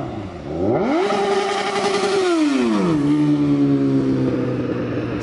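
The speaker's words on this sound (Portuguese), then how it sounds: "Vocês veem mais ou menos o jeito que a moto faz barulho" A motorcycle engine revs up sharply while climbing uphill, holds a high whine, then drops to a lower steady drone, loud and close with no voices.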